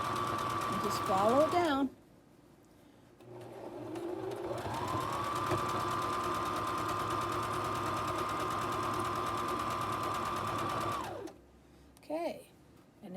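A home sewing machine runs a straight stitch in one long, steady run of about six seconds, preceded by shorter bursts, while someone speaks over it.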